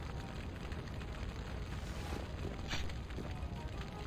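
Explosions blast a burning town in the video game Skies of Arcadia, a dense continuous roar and rumble with a brighter burst near the end and no speech over it.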